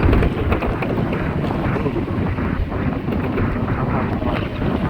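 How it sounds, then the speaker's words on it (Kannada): Strong wind buffets the microphone in a loud, continuous low roar with no clear voices. "ಮಸ್ತಾಗಿ ಗಾಳಿ ಬರ್ತೈತೆ."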